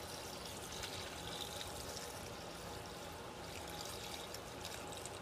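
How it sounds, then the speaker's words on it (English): Lye solution pours steadily into hard oils for soap making, a continuous trickling, splashing wash, close and fairly even throughout, with no talking. "Pour my lye solution into my hard oils and get them melted down again"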